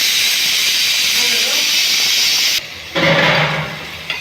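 Pressure cooker cooking rice, letting off a loud steady steam hiss that cuts off briefly, then bursts back into a sharper whistle, with people talking nearby.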